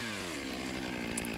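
A chainsaw cuts a felling notch into a standing tree, its engine roaring loud and steady at close range throughout with no talk.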